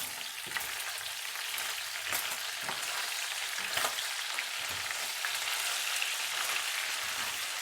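Meat and onion filling for a stuffed pumpkin fries and is stirred in a pan, giving a loud, continuous sizzle with occasional spoon scrapes and clacks; no talking.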